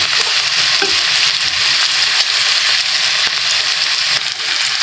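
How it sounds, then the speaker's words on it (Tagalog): Chopped onions fry loudly in a hot pan, a dense continuous sizzle with occasional stirring scrapes, while cooking pork igado with liver spread. "Kailangan medyo mag-brown guys yung sibuyas, onion"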